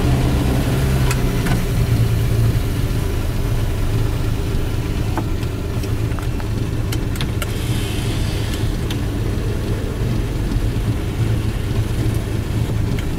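A Jaguar Mark X 420G saloon with its 4.2-litre straight-six engine idles steadily and loudly close by, a continuous low rumble with occasional faint clicks and no talk.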